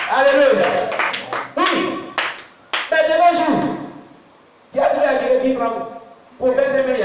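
A church congregation claps and cheers in acclamation, the rhythmic applause rising in several loud bursts that come and go, with voices talking and calling out over it.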